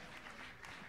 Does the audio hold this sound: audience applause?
yes